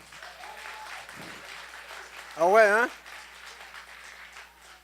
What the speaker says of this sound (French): Si vous avez eu une mauvaise année en 2017, applaudissez encore plus fort.